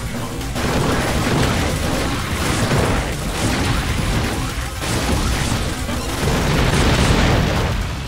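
Loud, dense blasts and crashing rumble from a bomb explosion in the video game ANTONBLAST, sustained and full-bodied across the whole stretch with a brief dip midway.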